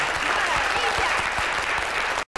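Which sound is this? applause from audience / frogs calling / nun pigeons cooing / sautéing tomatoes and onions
applause from audience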